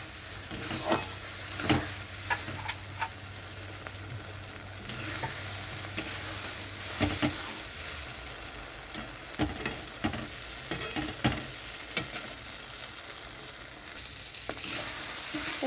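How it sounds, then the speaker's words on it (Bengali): Shrimp and white-greens paste frying in a pan, a steady sizzle with repeated scraping and clacking strokes as it is stirred at close range, no talking. "বারবার নাড়তে হবে, তা না হলে পড়ে যাবে, নিচ থেকে পুড়ে যাবে।"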